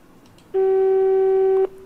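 A telephone busy signal sounds during a call as one steady, loud electronic tone lasting about a second, clear against a quiet background with no talking.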